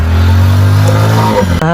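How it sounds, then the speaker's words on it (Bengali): A motorcycle engine runs loud and close with a steady, strongly pitched drone for most of the clip, then cuts off abruptly near the end, where a brief voice is heard. "ওই দেখ একটা মোটরসাইকেল আছে"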